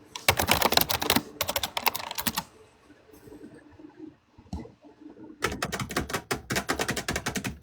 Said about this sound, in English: every time I hear you clicking on your mouse and your keypad